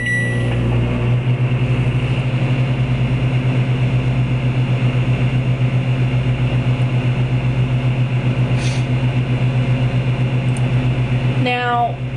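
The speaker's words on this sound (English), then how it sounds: "Now, when it's in the microwave," A microwave oven runs steadily while cooking a chocolate mug cake on a plate, a loud constant low hum with a faint rhythmic pulse and a brief click near the end.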